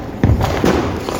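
A Diwali firecracker goes off close by with one dull, heavy thud, then a second softer thump a moment later, with nothing else around it.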